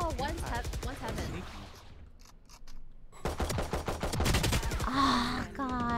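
Rapid pistol shots from the Valorant video game crack out in quick bursts, mixed with a player's excited voice and groans over the game audio.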